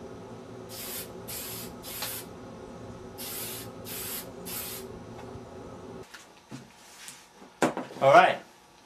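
A spray can lets out six short, sharp hisses in two groups of three as a final coat goes onto a mask, followed by quieter handling clatter and a brief voice.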